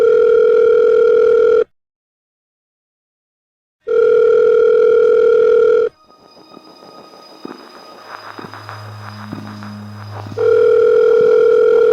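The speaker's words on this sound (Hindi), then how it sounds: "टिया सोरू को फोन पर फोन लगाए जा रही थी" A telephone call tone sounds in long steady beeps separated by silence, then a short stretch of murmuring room noise with a low hum, before the tone resumes loudly at the end.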